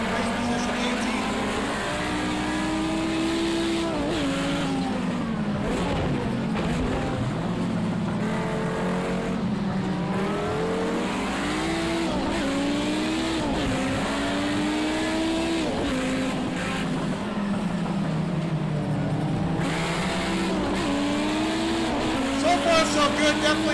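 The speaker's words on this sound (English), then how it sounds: "This car sounds incredible, the popping, off throttle" Race car engine in the Project Cars video game, a continuous revving drone that rises and falls with gear changes and crackles when lifting off throttle, loud and steady, with a voice talking over it.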